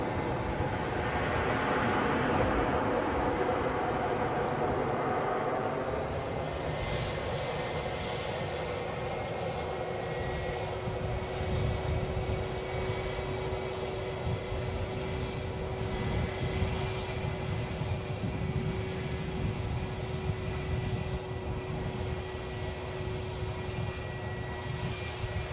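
Ryanair jet landing at Edinburgh airport, loud engine and rollout roar near at first that eases into a steadier, slightly quieter rumble with a sustained tonal hum, no voices.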